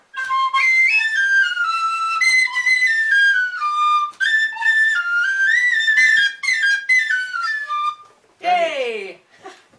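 A tin whistle plays a lively melody of quick, ornamented notes alone and close for most of the passage, with a brief pause near the end before a short final phrase.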